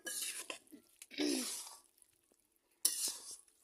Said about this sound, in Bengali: এবার ভালো করে নাড়াচাড়া করে রান্নার জন্য তৈরি করতেছি